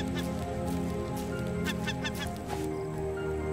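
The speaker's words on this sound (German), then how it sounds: "Eine Möwe." Seagulls call in the ocean survival game Raft, a cluster of harsh honking cries in the middle of the stretch over steady ocean and wind ambience.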